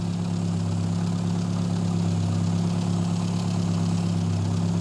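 Tuned MG A-Series engine in a mini rat rod running steadily at idle, a loud, close, continuous low rumble with no voices over it.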